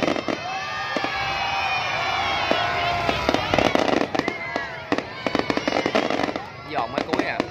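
Fireworks at the opening ceremony of the Dạ Cổ Hoài Lang festival, popping and crackling in rapid bursts with a steady whistling and roar beneath, as a crowd and nearby voices talk and call out.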